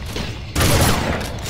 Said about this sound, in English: I'm gonna use a shotgun up here.